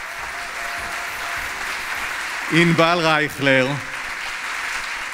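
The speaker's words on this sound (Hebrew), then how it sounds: "תנו כפיים" Audience applause fills a ceremony hall at the Ministry of Defense rehabilitation excellence award, a steady broad clapping wash running throughout, with a voice speaking briefly over it midway.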